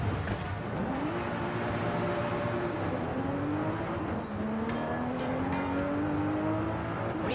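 A car drifting in the Forza driving game, its engine droning and revving continuously, pitch climbing through several gear-like steps over a constant rushing roar, loud and close with no talking.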